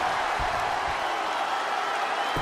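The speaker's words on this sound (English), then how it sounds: "The WWE Universe is showing their appreciation for the action they're seeing." A video game wrestling arena crowd in WWE 2K20 applauds in a steady, dense wash of clapping and cheering, with low commentary underneath.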